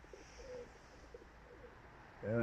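Pigeons coo softly at a dovecote loft, a few low murmuring calls spread across a quiet background before a louder burst of sound at the end.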